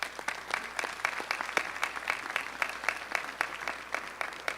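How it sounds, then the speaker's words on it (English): Steady applause from an indoor audience at a school board of trustees meeting, a dense patter of clapping that holds evenly throughout. "I want to give one round of applause for our sponsors"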